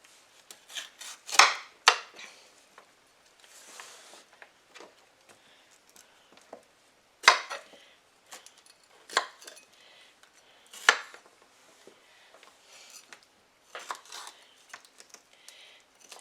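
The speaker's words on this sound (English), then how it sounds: "Now let me just slice up the rest of this pepper." Knife slicing through a bell pepper on a cutting board at home, a series of crisp chopping taps in irregular bursts with short pauses between cuts, close and fairly quiet with no talk.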